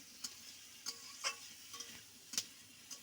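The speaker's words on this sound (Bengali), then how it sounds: "দেখছো আম দিয়ে এখন কষানো হচ্ছে" Fish curry with mango simmers and is sautéed in a pan, a faint low sizzle punctuated by small, irregular ladle taps and scrapes, with no talking.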